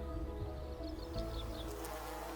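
Bees from hives in an apple orchard buzz faintly and continuously outdoors, a soft low insect drone with no talking.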